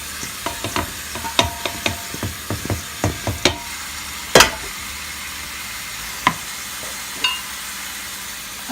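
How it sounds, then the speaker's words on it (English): Cabbage added in batches and stirred into palm nut sauce for native cabbage jollof rice: a run of crisp scraping clacks of a spoon against the pot over a quiet sizzle, growing sparser with a few louder knocks. "I'm just gonna add my cabbage in batches"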